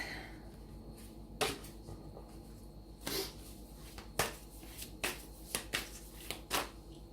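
Tarot cards shuffled close by on a table, a soft papery rustle punctuated by sharp riffling slaps at irregular intervals.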